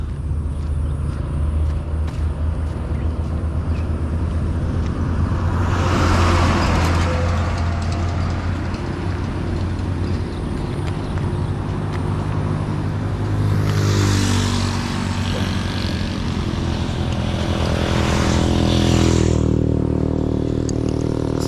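A motorbike loaded with charcoal rises and passes on a road in Kenya, with other traffic rumbling steadily in the background and no talk.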